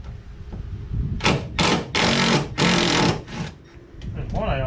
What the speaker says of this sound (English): I'm gonna start by trying to get these screws out of here with a screw gun.